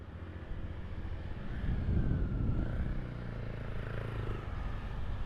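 A Honda CRF motorcycle passes by on a city street in Tokyo, its engine note rising and falling as it goes by amid steady wind and traffic noise.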